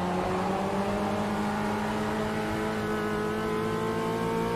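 Race car engines in the sim racing game Automobilista 2 roar continuously, their pitch rising steadily as they accelerate, loud and close with a constant droning whine.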